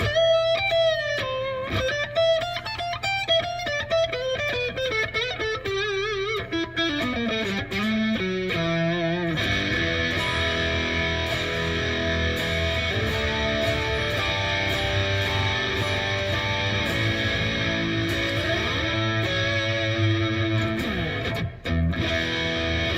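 Eart GW2 headless electric guitar played through effects on the neck pickup: a flowing melodic lead line at first, then sustained strummed chords with a chorus-like shimmer and distortion, loud and continuous without speech.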